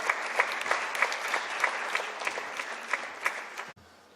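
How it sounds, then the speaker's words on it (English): A crowd at an oral health conference keynote claps steadily, a dense patter with a few sharper claps standing out, then the applause cuts off abruptly near the end. "Let's welcome him with a round of applause"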